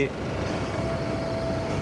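An Isuzu FRR 190 truck with a new Euro 5 engine rumbles steadily while driving down into an earth pit, with no clear speech over the low drone.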